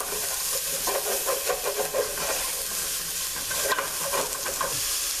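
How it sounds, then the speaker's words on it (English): Pork neck bones sizzling in a hot pan while the browned bits are scraped up, a steady frying hiss with rhythmic scraping strokes of a utensil against the pan bottom, close and continuous without talking. "Scrape all that up."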